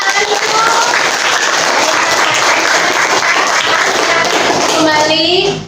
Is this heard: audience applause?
yes